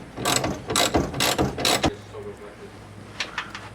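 A hand ratchet clicks rapidly in four quick bursts, close and sharp, while bolts on the breather of a 50-year-old Volvo 164e are loosened. A faint hum follows, then a few lighter clicks near the end.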